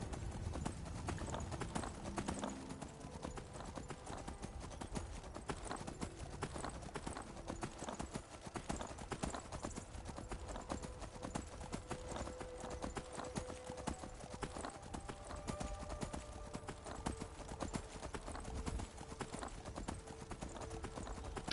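Horse hooves clip-clop steadily in Skyrim, a video game, a continuous rhythmic patter of hoofbeats under a dense, even wash of game ambience, with no talk.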